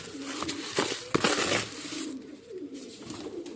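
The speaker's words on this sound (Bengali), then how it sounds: "পায়রাকে একটু খাবারও দিয়ে দিয়েছি" Pigeons being fed coo softly nearby, with a brief flutter of wings and pecking noises over a low background hiss.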